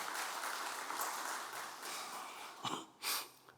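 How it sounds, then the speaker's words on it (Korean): A Korean Sunday church congregation gives a brief, quiet round of blessing applause after a testimony. Soft, fairly distant clapping fades, then a few sharper noises like breaths or snorts break through near the end. "축복의 박수 한번 보내도록 하겠습니다"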